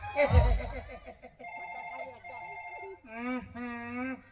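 A telephone rings in two short bursts of electronic tones, with a voice heard briefly near the start.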